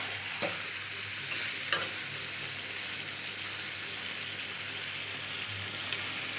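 A small splash of water goes into a pan of frying chicken gizzard and liver curry, giving a continuous hiss and sizzle with a couple of brief utensil clicks near the start, fairly quiet and steady throughout.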